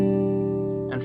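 An open-position guitar chord strummed close up, ringing with sustained harmonics for about a second before a light scrape of fingers at the end.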